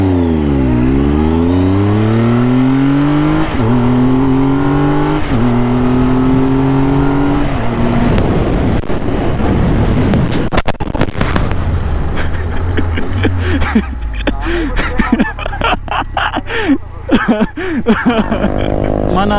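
Heavy motorcycle engine revving hard and rising in pitch while launching off a dirt jump on a Ladakh trail, loud and close, then dropping to a rougher, uneven rumble after landing.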